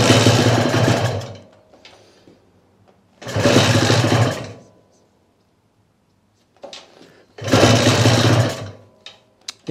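A Peugeot engine running at low idle after reassembly comes in three loud bursts of several seconds each, separated by near-silent gaps with faint clicks and handling noises.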